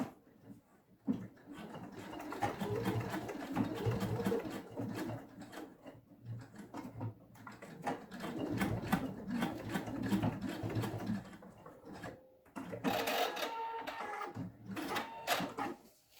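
A sewing machine stitches a seam on a frasqueira case, a faint, close, steady mechanical chatter that runs in short stretches with brief pauses and some handling clatter.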